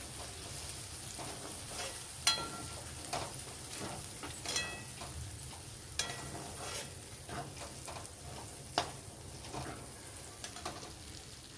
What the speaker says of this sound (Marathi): आता हा मटार टाकते. मटार नाही तळला, तो उडेल म्हणून हा थोडासा ह्याच्यातच भाजून घेते, परतून घेते.